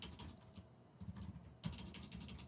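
Soft, quiet clicking of computer keyboard keys in short irregular bursts, typing code for a Python script, with no talk over it.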